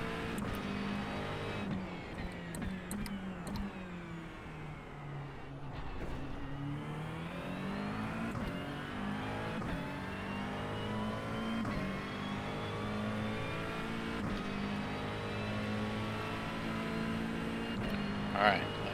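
A race car in a racing video game accelerates and revs, its engine pitch sweeping up and down through gear changes in a continuous loud whine, with a person talking over it.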